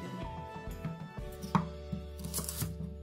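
Onion being finely chopped with a knife on a cutting board while an Italian meat sauce is prepared, a run of quick close knife strikes, with kitchen hum beneath and no talking.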